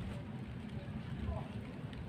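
Rain falls steadily on an outdoor garden where microgreens and spinach are being planted, a continuous soft patter with low rumble throughout, no talking.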